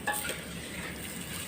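A pot of pancit canton noodles bubbles and sizzles steadily while being stirred, a continuous close wash of boiling and scraping with no voices.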